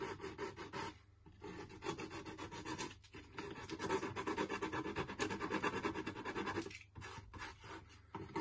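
Steady rasping of sandpaper scrubbing back and forth, sanding off hardened excess glue, close and continuous, with a few short pauses between strokes.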